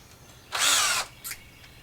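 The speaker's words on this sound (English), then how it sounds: "I just want to use it to create some pilot holes" A power drill with a 1/4-inch bit whirs in one burst of about half a second while boring pilot holes, followed by a quick second short pulse, close and loud against a quiet room.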